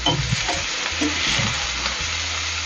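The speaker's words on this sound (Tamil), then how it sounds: "அதனால கொஞ்சமாக நம்ம வெங்காயம் போட்டு வெங்காயம் வதக்கட்டும் நல்லா" Finely chopped onions sautéing in oil for prawn gravy, with a loud, steady sizzle and brief stirring scrapes of a spoon, close up and alone.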